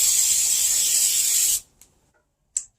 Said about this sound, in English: Spray the pan real good. Don't be stingy with the spray.